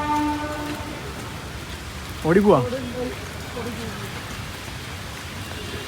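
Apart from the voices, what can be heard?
heavy rain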